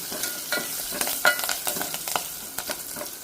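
Split moong dal hits a hot pan and fries with scattered crackles and sizzling pops, stirred about in small irregular bursts, close and moderately loud with no talking.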